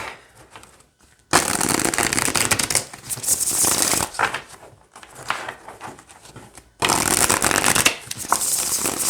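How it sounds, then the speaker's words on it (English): Tarot cards from a Victorian Steampunk Tarot deck are shuffled in quick riffling bursts, a dense papery flutter that stops and starts several times, close and fairly loud. "So we'll shuffle and then we will pull a card"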